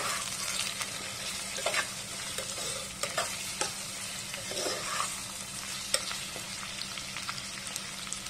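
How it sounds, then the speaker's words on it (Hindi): Chicken biryani frying in a pan with onions as the cook stirs, a steady close sizzle broken by the scrape of a utensil against the pan every second or so. "कुछ देर से ऐसे ही फ्राई होने के लिए रखेंगे, उसके बाद फिर से हम इसे आराम से हिला लेंगे।"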